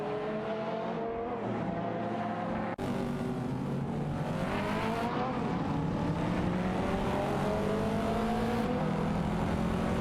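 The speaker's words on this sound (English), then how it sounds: "Amy is behind the wheel of a Vauxhall Astra GTC VXR, Amaljit is driving the same vehicle" Race car engines in a video game race, including a Vauxhall Astra GTC VXR, drone steadily and loudly throughout, with overlapping engine notes rising and shifting in pitch and a brief cut partway through.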